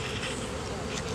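Honey bees hum around an open hive on a bee farm, a close, steady buzzing drone with a few louder passes near the microphone.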